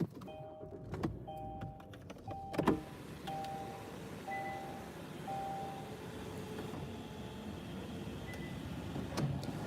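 Car power windows closing, several short whining motor runs in a row, each ending with a soft thump, close inside the vehicle with no talking.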